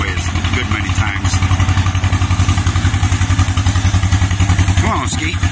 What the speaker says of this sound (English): Come on, Skeet, rev that thing up. You're babying it.